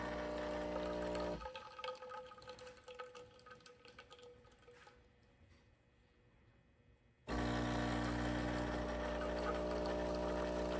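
An Ollygrin espresso machine brews a double shot: a loud pump hum runs at first, drops to quieter dripping and trickling liquid, then the loud hum returns abruptly near the end.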